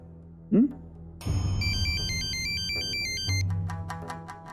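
An electronic ringtone chimes in a repeating melodic pattern, fairly loud and close, after a short vocal sound at the start.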